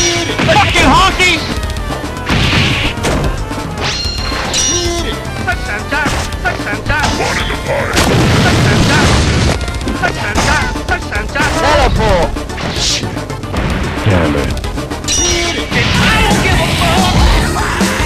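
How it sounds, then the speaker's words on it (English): Crashes and heavy impacts in a video game, dense and loud, repeating throughout with a busy mix of game noise and people talking over it. "Explosion."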